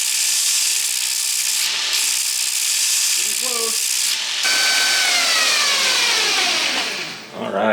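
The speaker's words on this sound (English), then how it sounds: "We're gonna see if we can just peel that off on the surface grinder" A surface grinder takes heavy scale off solid Damascus steel bars, giving a loud, steady high whine and hiss that runs throughout with brief dips and shifting pitch, close by.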